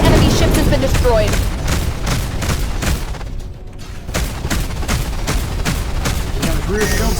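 Spaceship guns in the space combat game Between The Stars fire in rapid, steady bursts, loud and continuous, with a brief lull midway before the barrage resumes.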